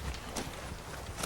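Hooves of a trained cutting horse clip-clop in a few faint, irregular steps, quiet and somewhat distant.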